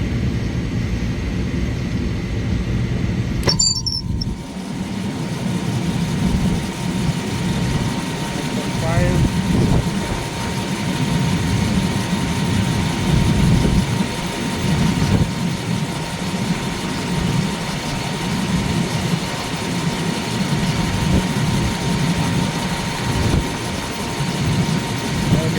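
Motor of a Lennox rooftop HVAC unit running while the unit is tested for a no-heat fault, a steady loud low drone with a sharp click early on, heard alone and close.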